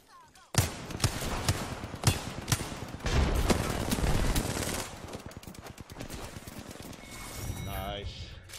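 Gunfire in Apex Legends, with rapid bursts of shots in a dense, uneven rattle that runs most of the way through, then thins to scattered cracks; a voice talks over parts of it.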